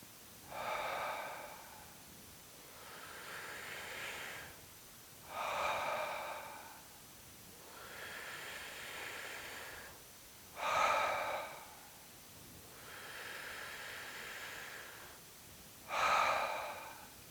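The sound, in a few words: breathing exercise, inhaling and exhaling strongly into the belly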